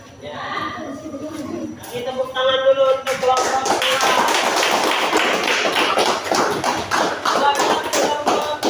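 Applause for group 2 at a classroom presentation: a brief voice and a few scattered taps lead into sustained, dense clapping from a group that carries on steadily to the end.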